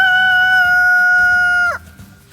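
A rooster crows once, loud and close, a sustained strident call that breaks off sharply at the end, heard alone with a faint background hum.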